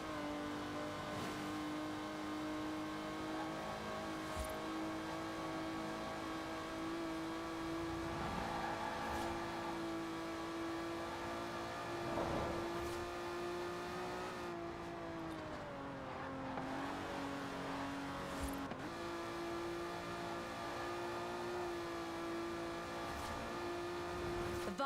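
An Aston Martin DB5 Vantage, a 1960s British grand tourer with side-draft carburetors, drives in Forza Horizon 4. A steady, sustained engine drone holds a constant pitch, briefly dipping and shifting around a gear change midway, with no speech.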